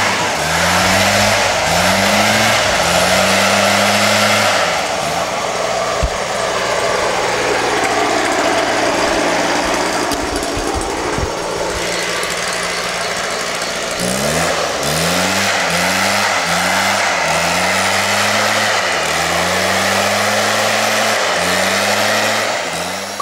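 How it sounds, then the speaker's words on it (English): Leaf blower running on a jungle path in Borneo, a loud droning engine that revs up and down in repeated surges, dipping briefly in the middle before resuming its rhythmic revving. "And there's a bloke with a leaf blower."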